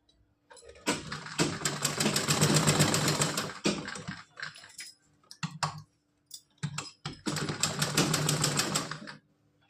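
A sewing machine stitches a small frock for a Laddu Gopal doll in two loud bursts of rapid mechanical clatter, separated by a pause filled with scattered clicks and handling noises.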